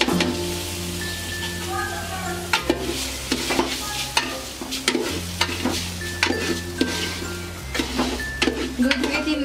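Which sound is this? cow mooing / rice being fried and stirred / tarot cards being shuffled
rice being fried and stirred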